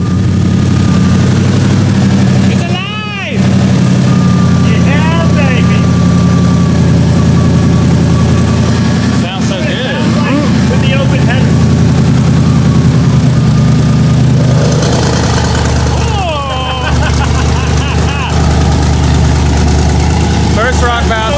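A rock bouncer off-road buggy's engine, with a freshly swapped crank sensor, cranks and catches, then settles into a loud, steady idle that runs on without a break, with faint voices audible in the background.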